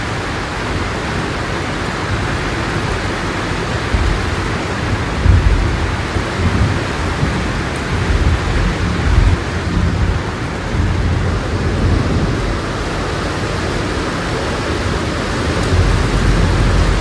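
Heavy rain pours in the Colombian mountains, a dense, steady hiss broken by low rumbles of thunder that swell and fade, with no voices.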